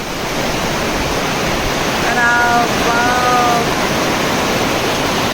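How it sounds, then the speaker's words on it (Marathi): Water roars over a dam in Nashik during heavy rain, a loud, constant rushing wash, with a faint voice briefly audible beneath the noise. "पाणी तर बघा डॅमचं कसं पळतय"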